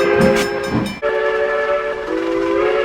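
A train sets off back toward Barstow after its two halves are coupled together, sounding a loud sustained horn that breaks briefly, then resumes with a shifted tone over rolling rail noise.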